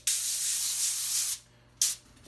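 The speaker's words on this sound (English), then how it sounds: "Just give it a little spray." A long, steady hiss of aerosol cooking spray onto a pan, followed after a short pause by a second brief burst, close and fairly loud.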